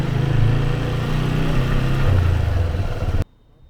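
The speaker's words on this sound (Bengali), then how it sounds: "আমি মজাতে চালিয়ে যাচ্ছি বাইক" Steady mid-pitched motorcycle engine hum while riding at night along a dark road from Delhi to Haridwar, loud and continuous with slight pitch shifts, cutting off abruptly near the end.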